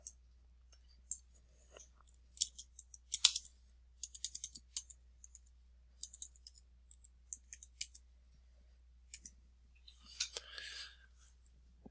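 Computer mouse clicks while working in a spreadsheet, many light, close, crisp clicks in irregular clusters, with soft speech and a steady low hum underneath.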